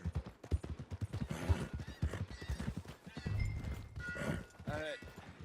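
Horse hooves clip-clopping with a whinny in Red Dead Redemption 2, mixed under game music and dialogue as characters talk near the stables.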